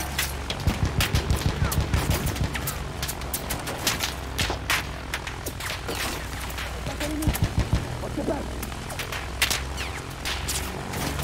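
Sustained machine gun fire from a Battlefield 1 conquest battle, dense rapid bursts of automatic shots crackling steadily for the whole stretch, loud and close, with scattered single reports and faint battlefield noise mixed in.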